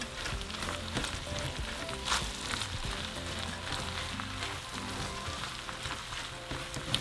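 Minced garlic sizzles steadily in a hot pan of meat for a stovetop discada norteña, a dense, continuous frying crackle with occasional stirring scrapes, fairly quiet and close, with no talking.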